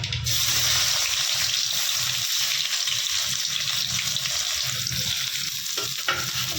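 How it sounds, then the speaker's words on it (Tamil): Chopped onions hit hot oil with crackling fenugreek and mustard seeds, giving a steady, loud, close sizzle and frying hiss that runs unbroken throughout, with faint stirring underneath. "இந்த வெங்காயத்தை அப்படியே போட்டுக்கலாம்"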